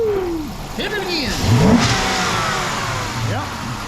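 A stock Dodge Charger police-package Hemi V8 revs up near the mic, its pitch rising and falling over a steady rumble, with voices calling out in the background.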